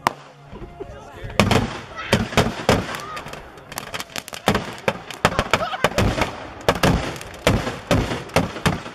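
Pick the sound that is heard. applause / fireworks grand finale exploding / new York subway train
fireworks grand finale exploding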